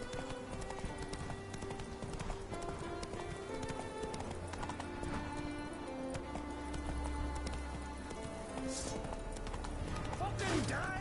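Roach, a horse in The Witcher 3, gallops with steady clip-clop hoofbeats under game music and battle noise, with a voice speaking over the action.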